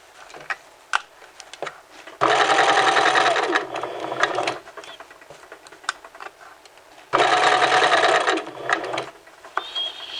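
A sewing machine stitches fabric around a curve for a McCall's 7531 dress sleeve, running in two loud sustained bursts of rapid mechanical whirring separated by quieter ticking and handling clicks.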